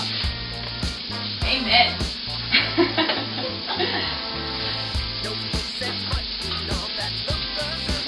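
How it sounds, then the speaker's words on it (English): Garlic spears and shallots sizzle in a hot pan over raised heat, a steady hissing fry that runs the whole time beneath low tonal background sounds, with a few brief louder bursts. "It's not quite sizzling as much as I want, so I just raised the heat a little to try and get a little more browning on these garlic spears"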